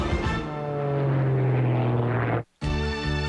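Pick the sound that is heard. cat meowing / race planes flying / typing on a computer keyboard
race planes flying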